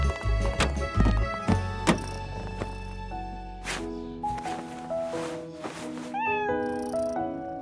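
A stray kitten in an animated children's cartoon meows over a bright musical score, with a few short thumps and clip-clop-like taps mixed in.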